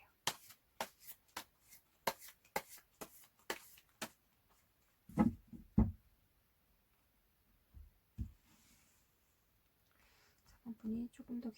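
Tarot cards being shuffled close by, a quick run of sharp riffling taps followed by sparser card flicks and soft handling, with a quiet voice murmuring near the end.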